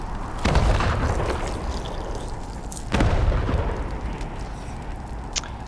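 A sniper rifle shot in the video game Wasteland 3, with two sharp booming blasts a few seconds apart, each followed by a rumbling tail over steady background ambience.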